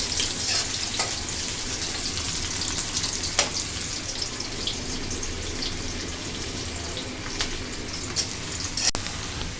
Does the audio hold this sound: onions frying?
yes